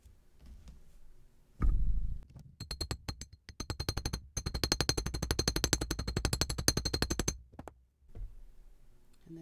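Wire for a tree of life pendant being hammered, a loud initial strike followed by long runs of rapid, evenly spaced metallic taps in two bursts with brief pauses, close and crisp with no talk.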